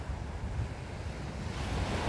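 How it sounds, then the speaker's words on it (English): Sea waves wash onto the shore at Kirkcaldy during a winter fishing session, a soft, steady surf roar mixed with wind buffeting the microphone. "Probably just the waves."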